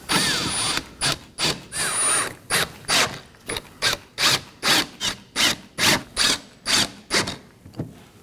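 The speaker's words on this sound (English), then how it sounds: "Now I'm going to go ahead and snug down my 5 T15 Torx screws." Five T15 Torx screws being snugged down into the lower active grille shutter of a 2018-2024 Chevrolet Equinox, with a steady run of about fourteen short, close ratcheting bursts evenly spaced and no talking.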